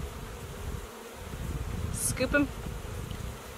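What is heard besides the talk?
honey bees buzzing during hive installation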